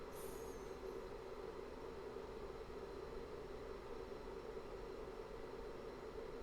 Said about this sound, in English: It's a slight hum with a little bit of rattling.